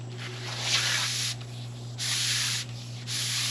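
A foam catfish noodle slid onto a length of half-inch PVC pipe makes loud, close rubbing scrapes in three long strokes, with a steady low hum beneath and no talking.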